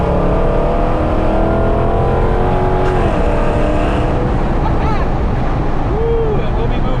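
A Procharged 5.7 Hemi Dodge Challenger R/T accelerating at full throttle, the supercharger whine rising in pitch over a loud, continuous engine roar, with a gear-change dip partway through.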